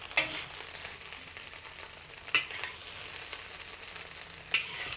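Garlic shrimp fried rice stir-fried in a wok, steady sizzling with a few sharp metallic scrapes of the spatula against the pan.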